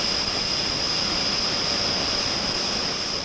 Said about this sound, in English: Jet blast can be dangerous.